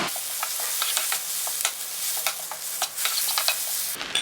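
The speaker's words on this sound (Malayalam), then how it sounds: "അതിലോട്ട് നമ്മളുടെ ചെറുതാക്കി കട്ട് ചെയ്ത് വെച്ചിരിക്കുന്ന പൊറോട്ട ചേർത്ത് കൊടുക്കാം. ഒന്നെല്ലാം കൂടി ഒന്ന് മിക്സ് ചെയ്ത് കൊടുക്കാം." Chopped parotta being stirred and fried with tomato in a hot pan for chicken kothu parotta, street-food style: brisk, repeated scraping and clattering strokes over a constant sizzle, close and loud, with no talk.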